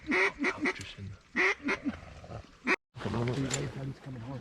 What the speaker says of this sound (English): Oh, it's the mallard.